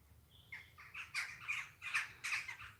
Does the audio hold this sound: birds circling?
yes